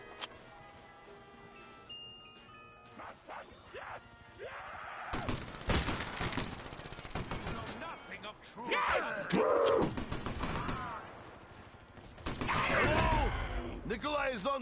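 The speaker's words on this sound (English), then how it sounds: "Nothing says trouble like crazed Russian with MG." Rapid machine gun bursts from an enemy in a video game, a crazed Russian gunner, rattling loudly in several volleys amid game noise and shouting, with the heaviest bursts in the second half.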